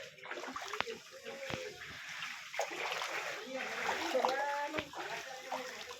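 Feet wade through floodwater at a house gate, with repeated sloshing splashes close by and trickling water, while a person talks over much of it.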